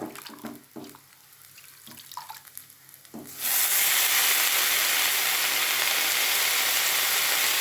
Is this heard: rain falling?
no